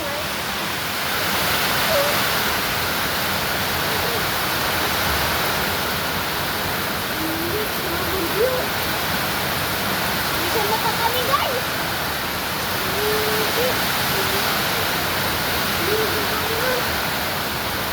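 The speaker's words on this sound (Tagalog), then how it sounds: "Ang lakas ng ulan sa inyo." Heavy typhoon rain from Typhoon Henry pours in a dense, continuous hiss, loud and steady throughout, with faint whistling tones drifting over the roar.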